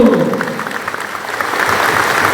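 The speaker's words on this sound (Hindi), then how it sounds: "जोर से हाथ दो" Large political rally crowd applauding for Tiprasa: loud, dense clapping from many people, sustained throughout and swelling toward the end, with a voice heard briefly at the start.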